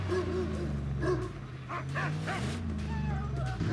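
A dog in the Mad Max video game gives a few short barks and whimpering yips over a low, steady engine-like drone, clear and fairly close in the game mix.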